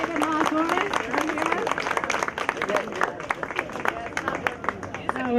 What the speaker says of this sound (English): I wanted to ask for a round of applause for our musicians in the back.